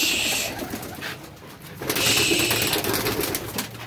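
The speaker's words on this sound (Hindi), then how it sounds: "जाल में हमने सब बच्चे बड़े सब कबूतर छोड़ दिए हुए हैं" Adult pigeons and young birds released inside a net enclosure coo and call softly, with bursts of fluttering and a steady bird chorus rising and falling close by, no speech.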